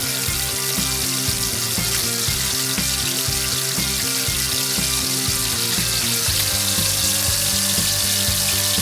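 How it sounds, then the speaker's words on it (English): Onions fry over intense high heat for a charred, smoky edge, producing a loud, continuous, dense sizzle with steady crackling and no speech. "I'm just going to continue to fry these onions on a nice, intense high heat"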